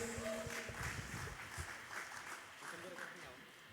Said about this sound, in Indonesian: Sekali lagi tepuk tangan buat anak-anak teens.